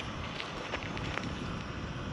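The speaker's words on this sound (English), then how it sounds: "It's really windy today." Wind rushes and buffets close to the microphone in a low, continuous roar with small gust bumps.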